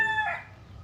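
A rooster crows once, close and loud, the call fading into its tail within a second over a low breezy outdoor background.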